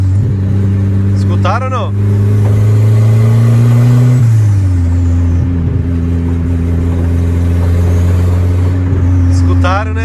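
Turbocharged 1.6 pickup truck with engine droning steadily, then a rev drop around the shift with brief turbo flutter chirps, heard from inside as someone speaks briefly.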